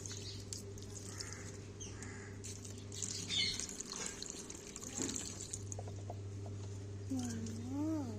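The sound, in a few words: water being poured onto a flowering plant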